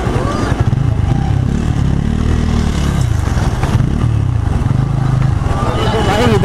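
A Bajaj Pulsar N160 motorcycle engine running rough and cutting out repeatedly, with uneven sputtering, clattering idle and brief dips, mixed with outdoor background noise.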